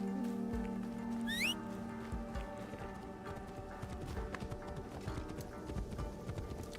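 Rhythmic clip-clop of a ridden horse's hooves in Assassin's Creed Shadows, steady and close, with a brief whinny near the start.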